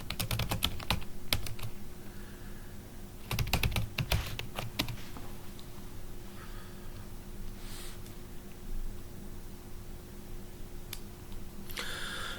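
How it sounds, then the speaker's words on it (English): Someone types on a computer keyboard in short, fast bursts of crisp clicking keystrokes near the start and middle, followed by quieter, scattered taps over a faint background hum. "I'm typing stuff to you."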